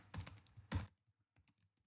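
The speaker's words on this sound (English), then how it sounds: "I'm typing to click here." A computer keyboard gets two firm clustered keystrokes close up, then a few faint scattered taps trail off into quiet.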